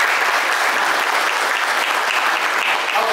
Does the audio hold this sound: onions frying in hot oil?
no